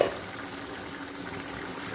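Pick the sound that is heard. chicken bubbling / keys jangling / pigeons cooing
chicken bubbling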